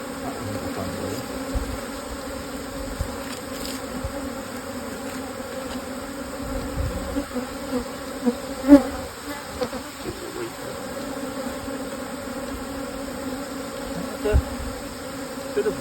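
A dense, steady buzzing of many honeybees around an open hive, close and continuous, with individual insects droning past now and then.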